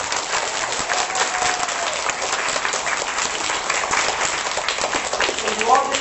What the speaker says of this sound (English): So I'd like you all to give a round of applause.